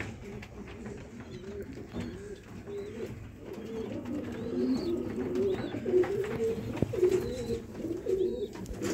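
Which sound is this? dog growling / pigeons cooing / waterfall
pigeons cooing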